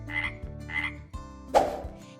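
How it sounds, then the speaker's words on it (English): Frog croaks in a children's read-aloud story, a few loud, close croaks in an uneven rhythm, with a music-like tonal background and no talking. "make the sound that frogs make. Ribbit, ribbit."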